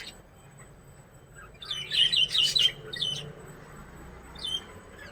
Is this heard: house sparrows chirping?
yes